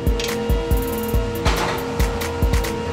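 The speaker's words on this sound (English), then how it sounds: "Now try to put the ratchet on" Ratchet wrench clicking while working on a 2008-2016 Chrysler Town & Country front hub bearing, a close, loud run of rapid pawl clicks in regular bursts, with no talk.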